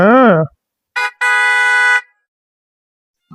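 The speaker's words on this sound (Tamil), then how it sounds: "எதுக்குடா இப்படி ஹார்ன் அடிக்கிற" A car horn honks twice, a short toot followed by a longer blast, right after a brief voice, then silence.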